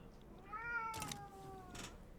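A cat gives a single drawn-out meow, mid-distance and fairly faint, with brief clicking noises alongside it and no talking.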